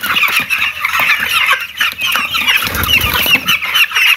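Chicks on a poultry farm suffering in extreme heat: a dense chorus of high-pitched chirps and squawks, many birds calling over one another continuously and fairly close.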